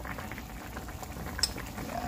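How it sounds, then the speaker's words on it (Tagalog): A chili, garlic and vinegar mixture bubbles at a steady boil in a cooking pot, a close, continuous low simmering and popping with no voices. "Kumukulo na po siya mga kabayan."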